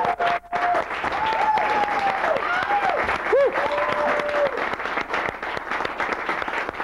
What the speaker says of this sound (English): I don't know why you're clapping for me